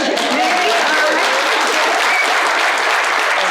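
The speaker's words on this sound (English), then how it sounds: "Can we have just a quick applause on that?" Loud, dense audience applause at a political debate between a Republican representative and a Democratic challenger, sustained and even throughout with a crowd murmur beneath the clapping.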